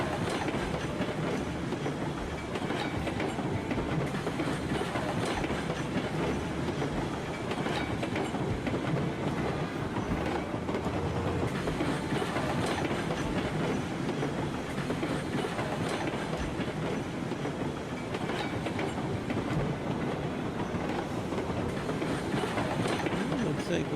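A steam train in the video game Railroads Online runs continuously, a loud, dense rumble with rhythmic clickety-clack of wheels over rails sustained throughout.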